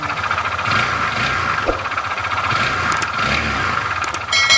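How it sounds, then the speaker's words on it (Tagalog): A running motorcycle engine with a rough, rhythmic knocking clatter in its idle from a damaged connecting rod, loud and close, revving slightly near the end. "Pagka ganyan tunugan mga sir, connecting rod ang nasira dyan."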